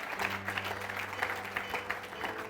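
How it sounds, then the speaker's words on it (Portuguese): A church congregation claps steadily and evenly in a reverberant room, moderately distant, with a low organ or keyboard chord held underneath throughout. "Aplauda o nome do Senhor Jesus"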